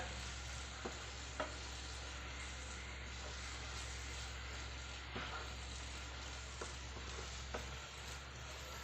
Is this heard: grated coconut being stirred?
yes